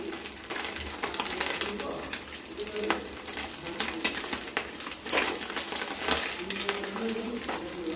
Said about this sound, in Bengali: এইভাবে লাল লাল করে আমরা সবগুলো মাছ ভেজে তুলে নেব